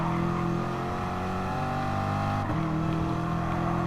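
BMW M4 race cars in Gran Turismo Sport, a loud, steady engine drone holding high revs, then a brief dip and shift around the middle before the tone resumes, with no voices.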